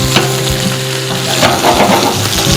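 Salmon pan-searing in a frying pan makes a loud, close, steady sizzle with scattered pops and crackles throughout, no talking.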